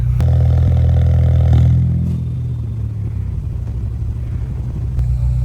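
A Volkswagen Polo RS engine, with over 105,000 km on it, roars loudly at close range on a cold start, then drops into a lower, steady rumbling idle.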